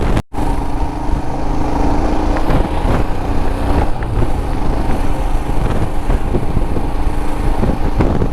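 Motorcycle engine running steadily in fifth gear on a ride near a wildlife sanctuary, a continuous loud droning hum with rushing wind noise, close and constant throughout.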